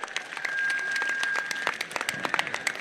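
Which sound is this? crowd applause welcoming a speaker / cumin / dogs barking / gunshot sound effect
crowd applause welcoming a speaker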